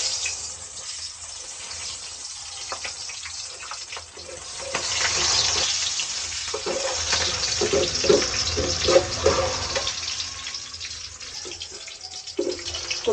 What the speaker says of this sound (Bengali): তো কড়াইটা বসাই দিচ্ছি, এখন দিয়ে দিচ্ছি আমি পেঁয়াজ কুচি।